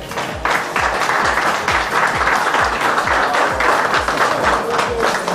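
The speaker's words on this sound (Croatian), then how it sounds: "Ja bih zamolio sve prisutne da jednim aplauzom pozdrave tvorce EMA radija." An audience at an EMA radio award celebration in the Koloseum hall applauds with a dense, sustained round of clapping, loud and close, lasting several seconds.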